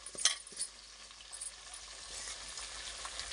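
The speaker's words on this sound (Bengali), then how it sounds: "এবার এই মাংসগুলোকে ভালো করে কষে নেওয়া হবে" Meat being fried and stirred with onion and ginger-garlic paste in a pan for biryani, a quiet steady sizzle with a few brief clinks and scrapes near the start.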